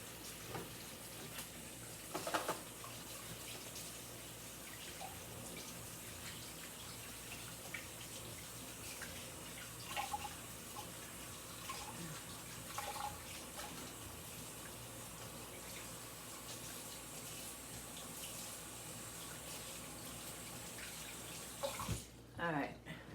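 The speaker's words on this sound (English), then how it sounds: "let me wash my hands." Floury hands are rinsed under a running kitchen tap while two-ingredient bread is being made at home. The water rushes steadily and fairly loud for about twenty seconds, with a short splashy clatter near the end.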